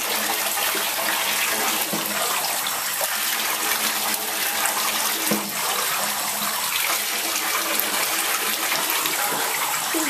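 Steady gushing water pours in a bathtub while soap is rinsed from a chocolate Labrador's fur, a loud continuous splashing stream with small surges and no talk.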